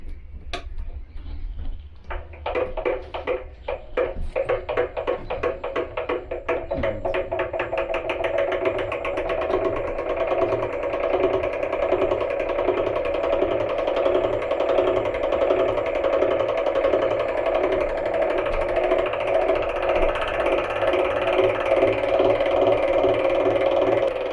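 An electric honey extractor spins frames of comb, starting with uneven clattering knocks and then settling into a steady, rising mechanical whir that runs on alone without talk.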